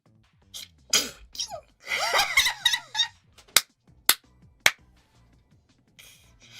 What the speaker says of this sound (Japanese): あ、くしゃみでしょ。